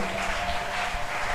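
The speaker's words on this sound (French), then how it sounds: "Au nom de Jésus, nous disons merci au Seigneur avec nos acclamations" Church congregation at a worship service applauding in a steady, dense wash of clapping and acclaim, filling the space throughout the short moment.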